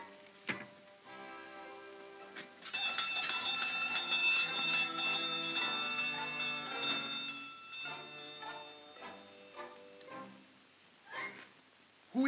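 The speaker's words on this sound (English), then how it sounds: "Ring the bell." A doorbell ringing at night with a long, bright chime of several layered tones that slowly decays, then a few fainter taps and clicks in otherwise quiet surroundings.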